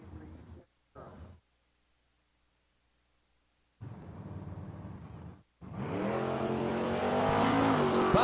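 A 1983 Chevrolet Camaro launches down a drag strip, its engine roaring loud and close and climbing steadily through the gears over the last few seconds, after brief bursts of a commentator talking over the announcer system.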